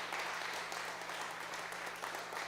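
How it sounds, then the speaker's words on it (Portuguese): A church congregation claps for Jesus during a sermon, a steady wash of applause from many hands that carries on for a couple of seconds at a moderate distance, with no speech over it. "aplauda o Senhor Jesus"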